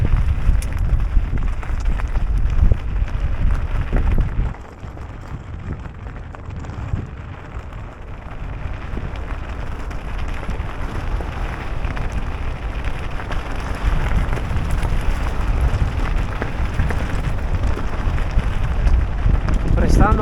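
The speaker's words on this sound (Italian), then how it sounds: "Qua c'è parecchio vento" Strong wind roars steadily across an exposed mountain bike trail on the Alpine road toward Casera Casavento, a dense, blustery rush with a slight lull partway through, loud and close throughout.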